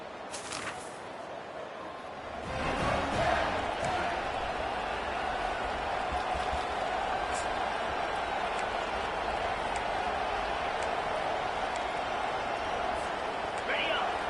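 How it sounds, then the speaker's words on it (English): A big football stadium crowd roars in a steady, dense wash of noise as Penn State plays a ranked opponent. The roar swells after a quieter opening and stays loud throughout, with a commentator talking over it. "This crowd bringing the energy and noise early."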